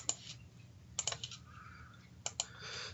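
Someone types a function into an Excel spreadsheet on a computer keyboard, with quick bursts of sharp key clicks separated by short pauses, close and fairly quiet.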